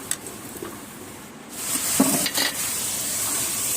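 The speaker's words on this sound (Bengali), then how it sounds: "এবারে হালকা করে জল দিয়ে মশলাটাকে ভালো করে কষিয়ে নেব" Spice paste for a fish dish hisses in a pan with a splash of water, quiet at first and then rising into a steady sizzle with a couple of stirring scrapes.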